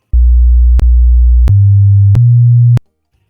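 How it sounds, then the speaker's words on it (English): A sequence of steady low hums, 50, 60, 100 and 120 Hz test tones played on an Aiwa NSX-S777 mini hi-fi, each a step higher in pitch than the last, separated by sharp clicks, loud and unbroken for about three seconds. "Now, what follows is going to be some tones. 50 Hz, 60 Hz, 100 Hz, 120 Hz."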